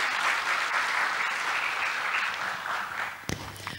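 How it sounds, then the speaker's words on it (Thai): Audience applause at a Thai agricultural panel seminar, steady dense clapping from a crowd for five speakers, thinning slightly toward the end with a few closer claps. "ขอเสียงปรบมือให้ทั้ง5ท่านด้วยค่ะ"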